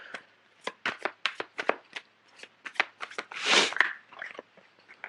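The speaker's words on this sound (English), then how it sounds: "I'm going to pull out a few cards for the 7 of Swords." Tarot cards are shuffled and drawn by hand in a run of quick, crisp riffling bursts, then a longer, louder flurry of cards near the end, close and with no talking.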